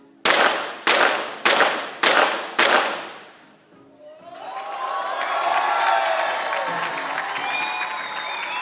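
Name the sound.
crowd applause at pistol shooting competition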